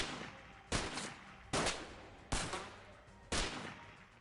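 Pistol shots from the XCOM video game, four loud single reports spaced roughly evenly apart, each followed by a brief decaying tail, with no talking over them.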